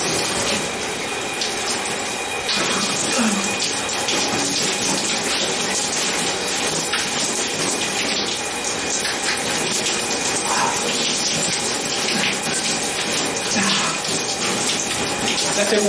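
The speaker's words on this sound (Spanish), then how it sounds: "Déjame que me doy un chapuzón rapidito." Continuous broadband water noise, like splashing and running water during a quick dip, fills the whole stretch at a steady, fairly loud level with no talk over it.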